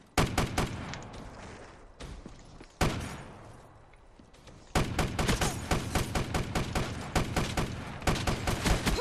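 Rapid shotgun blasts from a first-person shooter game, Black Ops 3: a burst of loud reports, a pause with decaying echo, then a long dense stretch of repeated close, punchy shots.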